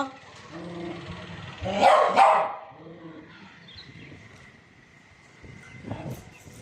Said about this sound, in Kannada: ಯಾವಾಗ ಬೊಗಳ್ತವೆ